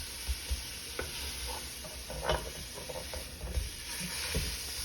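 Chili meat is broken up in a pot with scattered soft scraping knocks over a quiet, low sizzle, and no one speaks.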